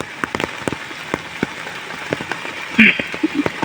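Heavy rain falls onto floodwater, a dense steady patter of drops on the water's surface with scattered louder splashes close by and faint voices in the background.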